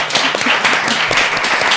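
A crowd clapping together, dense and fairly loud, with a steady patter of many hands and no pause.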